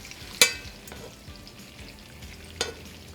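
Shrimp frying in olive oil with garlic and guindilla peppers, a soft steady sizzle with two sharp clinks of a utensil against the pan, heard close and quiet with no talking.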